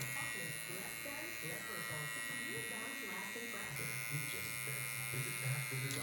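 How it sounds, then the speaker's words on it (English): An electric hair clipper runs steadily through a bald fade haircut, its motor buzzing close and continuous throughout while someone talks over it. "It's a little more safer if you go with the clipper open, a little more forgiving."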